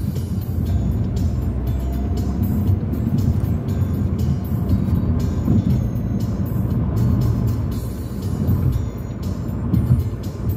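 A GAZelle van pulls away on a city street in Saratov, its engine note steady and fairly close, blended into continuous road traffic rumble.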